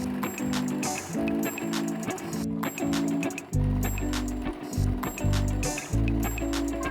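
A sewing machine stitches the handles of a large denim bag, running in loud, close bursts of whirring motor hum that start, stop and change pitch as the stitching goes back and then forward.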